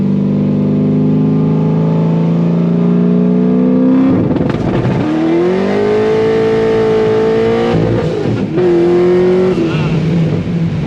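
Cars, including a Dodge Challenger, launching from a rolling start: loud engines rev up through the gears with sharp shift breaks, close and continuous, while people talk over the roar.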